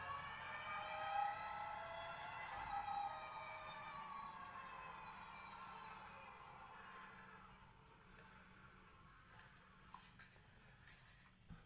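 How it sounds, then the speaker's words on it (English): Racing brake pads on a 2021 Ford Mustang Mach-E GT being drifted let out a sustained, piercing squeal whose tone slides gradually downward and fades over several seconds, followed by a few brief high chirps near the end. "that's what racing brake pads sound like"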